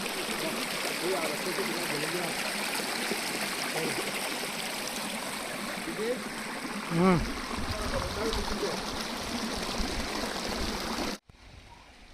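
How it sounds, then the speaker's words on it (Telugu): A stream flows in a steady, full rushing wash with no voices, continuing evenly until it cuts off abruptly near the end. "ఆ వాటర్ ఫ్లో సౌండ్ కానీ అసలు హైలైట్గా ఉంటుంది."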